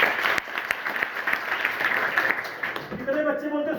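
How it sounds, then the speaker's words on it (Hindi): Schoolchildren in a classroom burst into loud applause on cue, a dense close clapping that runs through most of the moment before fading as voices come in near the end. "एक बार जोरदार ताली"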